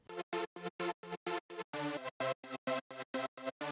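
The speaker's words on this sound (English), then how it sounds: "I added an extra layer, which is this super saw layer here" Super saw synth layer in a progressive house drop plays about fifteen short, bright, buzzy stabs in a steady chopped rhythm with one longer stab partway through. The stabs are loud and close, with no voices.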